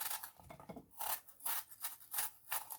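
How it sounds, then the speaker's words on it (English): A knife slicing an apple into small pieces, giving repeated crisp, rasping cuts at a steady rhythm, close and fairly quiet. "I have to start slicing my apple. I will slice it and I'll cut it in little pieces"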